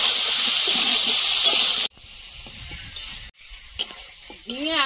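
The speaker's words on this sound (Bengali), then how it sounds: "ঝিঙে আলুর সঙ্গে ভালোভাবে কষিয়ে নিয়েছি" Ridge gourd and potato pieces with turmeric and salt sizzle loudly in hot oil, with stirring scrapes and bursts of frying; the sound drops abruptly twice, leaving quieter stirring and a faint sweep near the end.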